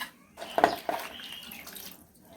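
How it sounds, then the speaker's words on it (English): Kudura is rinsed by hand in water to wash out sand while cooking a traditional South Sudanese dish. It makes a quiet slosh and a couple of brief splashes close by. "Just making sure that there is no sand in the Kudura. That's why we're washing it 2 times."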